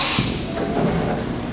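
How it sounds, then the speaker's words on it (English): A Haas VF2 vertical machining center performs a tool change, a brief loud burst of hissing, clattering mechanical noise dense across the whole spectrum and lasting under two seconds. "That's the tool change."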